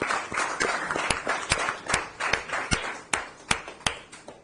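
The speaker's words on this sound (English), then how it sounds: "can we have a round of applause" Applause at a Delhi fitness plan event, sparse distinct hand claps spaced irregularly, fairly close, rather than a dense crowd ovation, lasting a few seconds.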